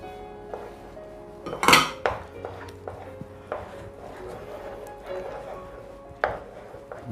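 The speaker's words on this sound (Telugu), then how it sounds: "ఒక 2 పీసు పైన్ యాపిల్ ఈ విధంగా సన్నగా కట్ చేసి తీసుకుంది" A knife chops pineapple into thin pieces on a cutting board in a home kitchen, with irregular sharp taps and occasional clinks of utensils, close up, one loud strike standing out near the start.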